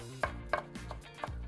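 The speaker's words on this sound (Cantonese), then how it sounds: "咁不如咧切埋啲葱先" A knife chops spring onions on a cutting board in a home kitchen, giving about five crisp, evenly spaced taps in quick succession, close and distinct, with no talking.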